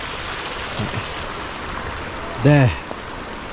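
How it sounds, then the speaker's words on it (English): Rainwater rushing down the steps of a mountain trail during a rainy climb, a steady broadband wash running throughout, with a brief spoken word partway through. "All the water rushing down."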